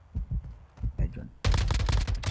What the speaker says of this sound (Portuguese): Eu senti que o Johnny segurou a metralhadora ali.